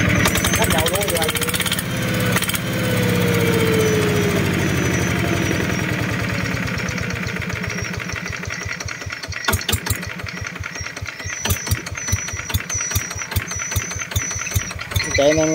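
A Zanma diesel engine runs steadily with a low, rhythmic chugging that sharpens into distinct knocking pulses later, with clicks and rattles over it and people talking in Vietnamese.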